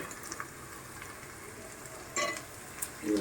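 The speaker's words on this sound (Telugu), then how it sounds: "పచ్చిమిరకాయలు ఉల్లిపాయలు ఇవి బాగా వేయించుకోవాలి" Onions and green chillies frying in oil in a pan that earlier held dried prawns, for an Andhra-style egg curry; a steady soft sizzle with a few scraping stirs, close by and fairly quiet, no talking.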